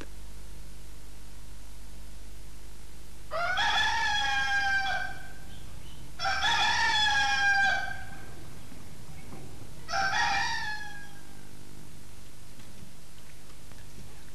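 A rooster crows three times, each long call rising and falling and separated by a few seconds of quiet, heard clearly against a faint steady hiss with no talking.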